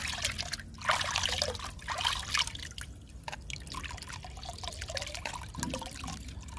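Liquid groundnut cake fertilizer is poured by mug into a bucket, a close, irregular sequence of splashing and trickling pours with drips in between.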